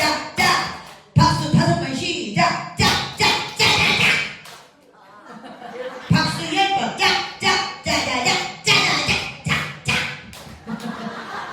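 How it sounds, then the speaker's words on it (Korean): Hands clap in counted bursts during a Korean comedy bit, sharp claps in quick groups of several, loud and close, with a brief pause between rounds and a voice speaking in between. "박수 5번 시작."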